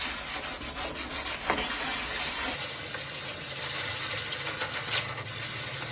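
Fingers rub 320-grit sandpaper lightly in circles over spot putty on a 3D-printed model kit part, giving a continuous soft scratchy hiss close to the listener with small swells, over a low background hum.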